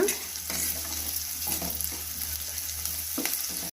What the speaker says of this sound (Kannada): ಚೆನ್ನಾಗಿ ಫ್ರೈ ಆಗಿದೆ ಈಗ